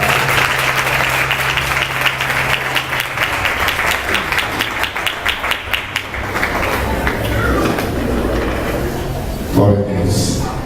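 A church congregation claps for their pastor, loud sustained applause with low organ or keyboard tones underneath, easing toward the end as a voice briefly comes in.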